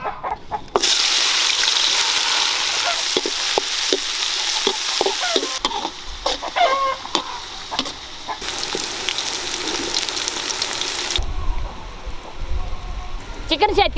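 Onion and garlic frying and being stirred outdoors in a village kitchen, a loud, dense sizzle with repeated scraping and clattering of a spoon against the pan, while a voice speaks at points.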